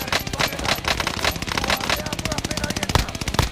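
Rapid automatic gunfire from a Warzone match, dense bursts of rattling shots running nearly continuously with a few sharper louder cracks, loud and close, with faint voice chatter mixed underneath.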